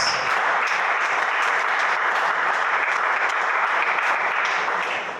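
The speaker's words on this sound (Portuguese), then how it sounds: "Mais palmas para Jesus." Sustained, dense applause from a church congregation, loud and even throughout with no pauses, tapering slightly at the very end.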